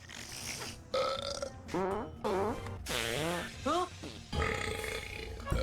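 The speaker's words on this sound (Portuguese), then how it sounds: "Depois também de um monte de arrotos e peidos, porque claro, crianças devem achar isso engraçado." Cartoon burp and fart sound effects from the Ben 10 reboot animated series, several comic blasts with wobbling pitch in quick succession, loud and upfront, with cartoon voices mixed in.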